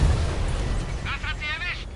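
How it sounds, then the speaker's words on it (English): An artillery shell explodes in the World of Tanks console game, a dull boom rumbling low beneath in-game voice chatter. "Nice shot artillery."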